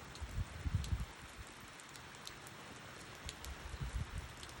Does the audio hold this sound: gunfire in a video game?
no